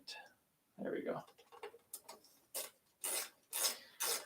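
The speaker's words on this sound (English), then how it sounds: "Really like this ratchet wrench from Top Peak that's on our electric bike accessories list. Just makes doing this a little bit quicker." A Topeak ratchet wrench tightening parts on a KBO Ranger cargo e-bike, heard as a run of short, close rasping ratchet clicks in bursts after a brief voice.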